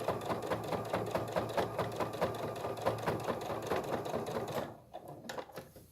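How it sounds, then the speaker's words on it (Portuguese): A sewing machine stitching fabric slowly, its needle running in a steady rapid mechanical chatter close by for several seconds before stopping, with softer handling noises after and no speech. "Costurando bem devagar, tá, gente?"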